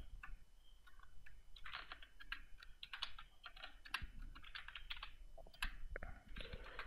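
Steady clatter of keys on a computer keyboard, quick irregular taps in bursts at close range, fairly quiet, with no voices.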